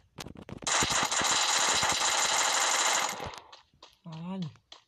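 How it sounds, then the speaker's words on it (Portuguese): Automatic gunfire in the Free Fire video game rattles in one long, dense, loud burst of about two and a half seconds, with scattered shots before it and a voice exclaiming after it. "Cadê a pessoa que tá me atirando aqui?"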